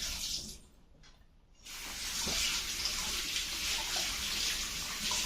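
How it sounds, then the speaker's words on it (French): Hands are washed under a running tap after kneading makrout dough, with steady splashing water that briefly quiets and then returns louder and continuous. "je me lave les mains"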